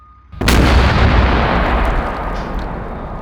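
An explosive charge blasts a concrete element with a sudden loud boom after a quiet moment, followed by a long rumbling roar of debris that slowly fades while staying strong.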